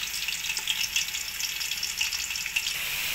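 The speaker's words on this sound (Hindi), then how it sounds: "यहाँ पे हमारा चिकन फ्राई हो रहा है" Marinated chicken tikka pieces fry steadily in hot oil in a pan, a dense, even crackling sizzle that stays close and constant, with no voices heard.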